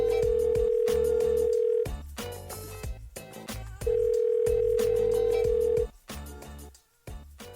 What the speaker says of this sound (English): And now let's give him a call.